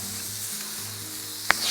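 Scallops and chorizo sizzle on a hot plate grill, a soft steady frying hiss with a faint hum beneath and one sharp click near the end.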